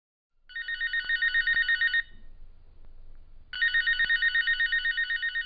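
A telephone bell ringing in two loud bursts of rapid trilling, separated by a short pause, with no voices and a quiet room in between.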